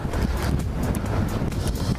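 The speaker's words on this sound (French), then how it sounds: "Il y a un bon vent." Strong wind buffets the microphone on a road bike ride near Bad Säckingen on the way around Lake Constance toward Schaffhausen, a continuous roaring rush with no speech.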